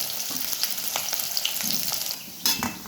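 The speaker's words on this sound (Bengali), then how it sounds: "এবার তেলটা হচ্ছে গরম হয়ে গেলে সবার আগে হচ্ছে আলুটাকে হচ্ছে ভেজে নেবো" Potatoes fry in hot oil with a steady crackling sizzle, close and continuous, broken by occasional sharper pops and a brief stirring scrape near the end.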